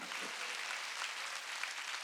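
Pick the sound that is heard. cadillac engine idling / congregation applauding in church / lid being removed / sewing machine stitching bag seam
congregation applauding in church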